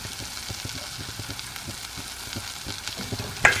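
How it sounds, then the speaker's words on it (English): A prawn pilaf with korma spices sizzles in a hot pan, a continuous close frying hiss with scraping stir strokes and a sharper clatter near the end; no voices. "Give that a stir."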